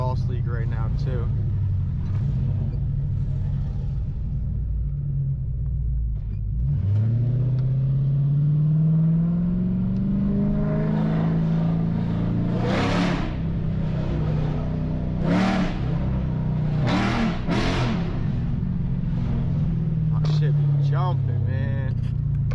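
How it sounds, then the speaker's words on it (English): A Chrysler 300 SRT8 Scat Pack V8 with an exhaust leak rumbles steadily at close range, a deep idle that swells into a revving climb, with people talking over it outdoors at night. "Got an exhaust leak right now too."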